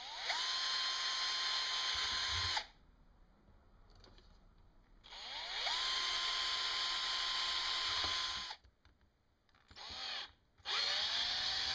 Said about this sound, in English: We first drill holes in the top of the remote for the switch ports.